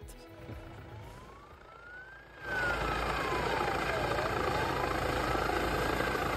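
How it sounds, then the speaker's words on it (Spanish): A warning siren at a football match wails with a slow rising and falling tone, then a loud, dense roar of noise swells in and continues under the siren. "tuvieron que poner esa sirena que han escuchado porque estaban jugando y para avisarles"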